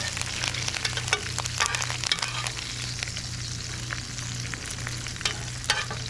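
American Wagyu steak searing in a hot pan with thyme and garlic as it is basted, a steady loud sizzle with spitting crackles and scraping stirs, no voices.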